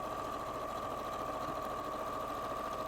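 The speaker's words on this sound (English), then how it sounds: "just run some sewing, like a line of top stitching" Sewing machine running a line of top stitching on a bag, a steady, faint, even whirring hum with a continuous mechanical buzz throughout.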